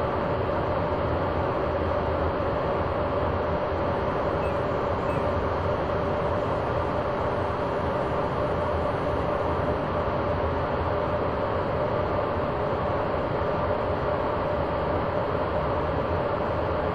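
Electric locomotive running in the Train Simulator game on a Rheingold train near Karlsruhe, a loud steady rumbling roar with rail noise continuing evenly throughout, with no voices.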